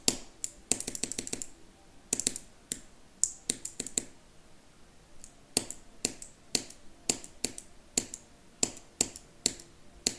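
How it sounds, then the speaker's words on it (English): Someone types on a computer keyboard, sharp clicking keystrokes arriving in quick clusters and irregular runs, close and clear with no talking. "I need to play with my keyboard."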